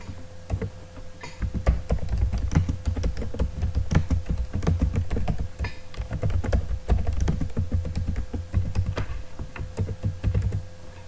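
Java code being typed on a computer keyboard, a steady run of quick, close key clicks in uneven bursts with short pauses, with no talking.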